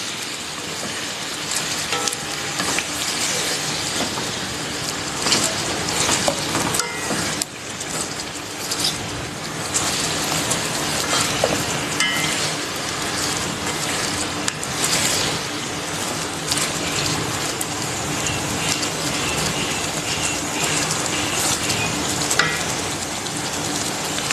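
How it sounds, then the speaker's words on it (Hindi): Garlic ginger paste and cumin fry with chicken for a karahi, giving a loud, close, continuous sizzle with dense crackling, like rain, and occasional stirring scrapes. "लहसुन अदरक के पेस्ट और ज़ीरे के साथ अच्छी तरह से फ्राई कर लूँगी"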